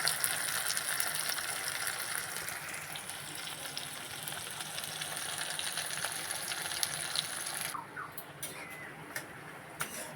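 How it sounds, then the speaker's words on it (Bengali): Chopped onions fry in a kadai with nigella seeds, giving a constant broad sizzling hiss that drops away sharply near the end, leaving a quieter background. "এবারে দিয়ে দেবো পেঁয়াজ কুচিয়ে রেখেছিলাম সেটা দিয়ে ভালো করে পেঁয়াজগুলো ভেজে নেব"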